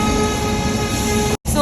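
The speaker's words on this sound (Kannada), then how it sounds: "ಎಕ್ಸ್ಪ್ರೆಸ್ ಮೈಸೂರು ನಿಲ್ದಾಣದಿಂದ ತಾಳಗುಪ್ಪ ನಿಲ್ದಾಣದ ತನಕ ಹೋಗುವ ಗಾಡಿ ಶೀಘ್ರದಲ್ಲೇ 9ನೇ ಪ್ಲಾಟ್ಫಾರ್ಮ್ ರಿಂದ ಹೊರಡಲಿದೆ" The Mysore–Talguppa Express pulls out of platform nine at Mysore station, heard as a loud, steady rail rumble with a brief dropout.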